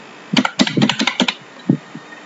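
A date of birth typed on a computer keyboard, a quick cluster of crisp close key clicks followed by a couple of slower separate taps.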